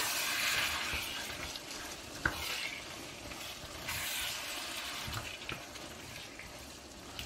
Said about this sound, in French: Donc là, on va bien mélanger.